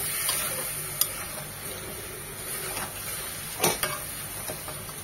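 Low sizzling of chicken frying with ginger, garlic and spices in a pan, with a few sharp clinks and scrapes of a utensil stirring, no voices.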